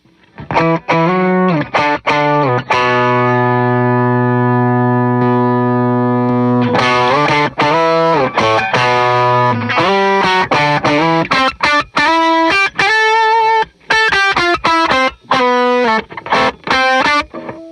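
An electric guitar run through an Enzo synth pedal's octave-up effect, first holding long buzzy synth-like notes, then playing quick, choppy phrases, loud and alone.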